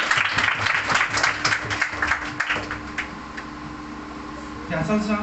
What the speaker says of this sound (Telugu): చప్పట్లు కొడతాం పిల్లలు కూడా